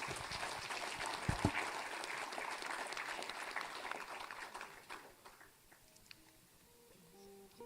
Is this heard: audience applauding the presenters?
yes